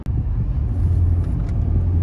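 A 2024 Nissan Kicks with front-wheel drive rolls along a half-desert road near Dubai, giving a steady, loud low engine and road rumble that holds evenly from start to finish.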